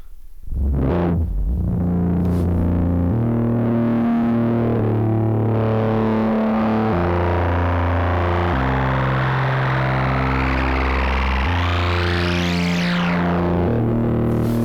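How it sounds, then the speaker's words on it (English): A distorted, buzzy complex-oscillator synthesizer with cross modulation plays a low, shifting sequence with a swirling reverb and delay tail, loud and continuous, ending in a rising filter sweep. "Let's put slightly some reverb delay for some context."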